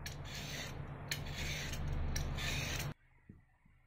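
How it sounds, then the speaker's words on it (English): Vegetable skin scraped off with a potato peeler, a close, dry rasping in quick repeated strokes that stops abruptly, leaving faint small knocks. "So peel the skin using the potato peeler."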